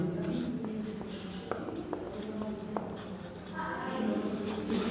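Pen or marker scratching out a chemistry definition by hand on a board, quick close strokes and taps with a soft hum behind and a voice starting near the end.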